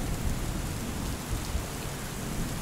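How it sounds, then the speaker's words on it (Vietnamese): Steady rainfall pours continuously, with a dense hiss of drops on surfaces and a low rumbling undertone, loud and unbroken from start to finish. "Hôm nay trời vẫn mưa, không có dấu hiệu ngừng lại."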